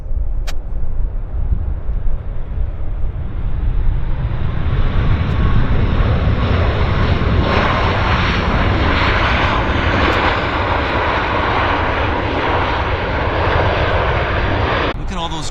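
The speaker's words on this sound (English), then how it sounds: "See if we can get a nice landing out of this." A heavy jet airliner lands at Vancouver International Airport with a single bounce, its engines roaring loud and steady throughout with broadband rumble and rising whine, close and unbroken.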